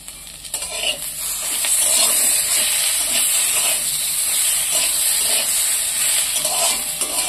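Cut tomato hits a hot pan where egg bharta is cooking. A loud, steady hiss and sizzle rises just after a soft drop at the start and crackles on close up for the rest.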